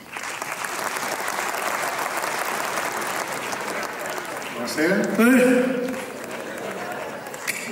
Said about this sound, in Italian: Signore e signori, accogliamolo con un grosso applauso,